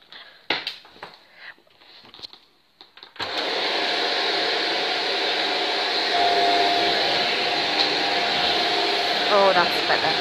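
A Shark corded Duo Clean Lift-Away bagless vacuum cleaner with its hose attached switches on after a few knocks and handling sounds, then runs on hard floor as a loud, steady, close whine and roar.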